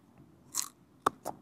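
Crisp bites into a firm, crunchy mango from a backyard tree, with one bite and then two sharp crunches close to the mic in a quiet setting.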